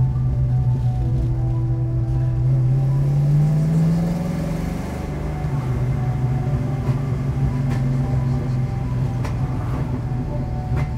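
A 1967 Ford Mustang Fastback with its engine running, a deep steady idle that rises in pitch as the engine is revved and then settles back to a throaty rumble, close and loud, with no talk.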